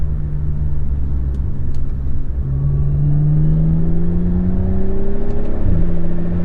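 A 2015 BMW 535xi accelerates from inside the cabin, a heavy low engine drone rising steadily in pitch with a smooth whir, loud and continuous with no talk.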